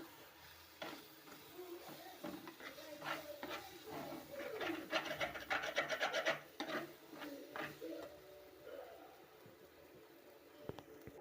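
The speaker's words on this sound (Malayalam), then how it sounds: "നന്നായിട്ടൊന്ന് ഇളക്കി കൊടുക്കാം" Mango curry with coriander powder is stirred in a pan, giving soft scraping and sizzling strokes that build into a denser, busier passage midway before easing off again.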